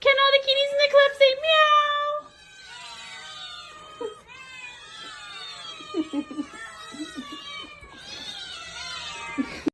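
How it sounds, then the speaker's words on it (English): Cats meow close by in long, wavering, insistent cries that overlap and continue almost without pause, shifting from bright high meows to drawn-out caterwauling. "Can all the kitties in the club say"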